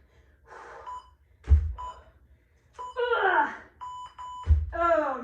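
Electronic workout interval timer beeping at the end of a full-body circuit, short tonal beeps sounding under a trainer's voice and heavy breathing in a gym setting.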